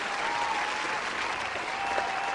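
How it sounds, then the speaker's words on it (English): A round of applause in a podcast studio, steady dense clapping from a small group held at an even level for a couple of seconds, fairly close. "You give you a round of applause for that."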